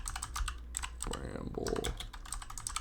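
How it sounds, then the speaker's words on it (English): Keys clatter on a computer keyboard with the microphone right in front of it, steady close tapping running beneath a man's speech. "I'm typing so slow and weird just because my mic's right in front of my keyboard."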